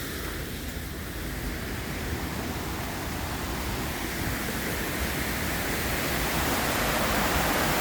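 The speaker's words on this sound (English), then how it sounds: "But you can hear the waterfalls" A steady, dense roar of rushing water fills the whole stretch, constant and broadband, from waterfalls heard nearby from under a walkway at Huroc Park, Flat Rock.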